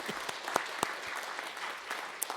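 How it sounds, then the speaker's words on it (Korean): A church congregation gives a soft round of applause, a dense patter of many hands with a few sharper individual claps standing out, fairly distant and steady. "우리 하나님께 영광의 박수 올려드립니다"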